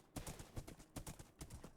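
Horse hooves clip-clopping in the Minecraft Create mod game, a quick, evenly spaced series of soft clops.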